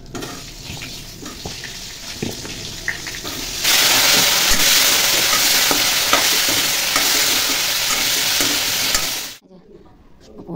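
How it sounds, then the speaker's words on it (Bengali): Cauliflower fries in a pan with a loud, close crackling sizzle that swells sharply partway through, then cuts off abruptly near the end, leaving quiet. "এখন ফুলকপিটা ভেজে নেব।"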